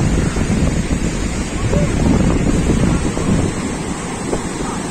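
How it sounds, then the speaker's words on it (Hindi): Loud surf of cross waves rushing and churning close by on a Konkan beach in India, mixed with heavy wind buffeting the microphone in a constant roar. "जैसे क्रॉस वेव्स आ रहे हैं वैसे पानी अंदर तक आ रहा है"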